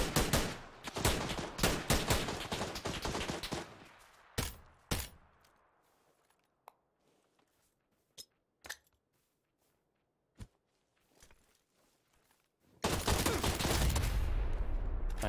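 Sniper and DMR rifle fire in a first-person shooter match, opening with a dense volley of loud overlapping shots, then scattered single cracks spaced seconds apart with quiet between, and another heavy burst of fire at the end.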